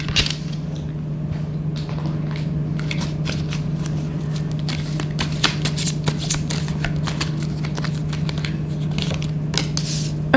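Oracle cards being shuffled and pulled by hand, a close run of quick papery riffles and slides over a steady low hum, with no speech.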